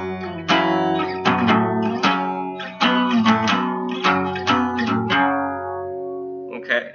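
An acoustic guitar strums the chorus chords of a song, sliding one chord shape up and down the neck in a series of loud, ringing strums that decay into silence near the end.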